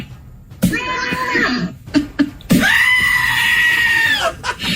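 The Slap Mac laptop app plays loud goat screams, two long bleating yells in a row that sound close and harsh, one after a brief pause and a few thumps.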